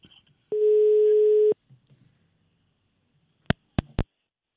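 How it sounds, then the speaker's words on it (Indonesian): A faulty telephone line during a radio call: one steady electronic tone lasting about a second, followed by quiet line noise and three sharp clicks, loud and close, with no talking. "Teleponnya error."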